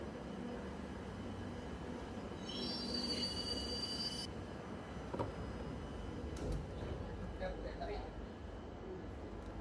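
Empty local train running between Dum Dum Cantonment and Noapara, with steady rumbling wheel noise and a sharp metallic wheel squeal a few seconds in, heard from inside the carriage.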